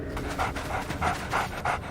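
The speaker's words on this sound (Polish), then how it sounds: "a co to za słodki pieseczek?" A dog pants rapidly and rhythmically up close, quick breathy huffs repeating steadily.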